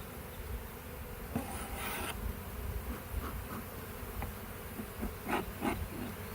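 Honeybees buzz steadily around an open, strong hive being smoked during an inspection, a dense insect drone with a few louder passes close by.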